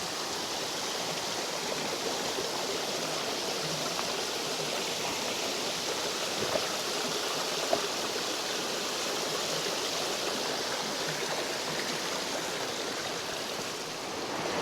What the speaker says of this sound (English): there's a lovely little waterfall streaming down